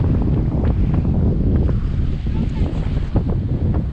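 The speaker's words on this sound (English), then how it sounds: "It's blowing an absolute gale" A strong gale blows over a river at Haast during whitebait fishing, roaring steadily and buffeting the microphone with a dense, loud rumble throughout.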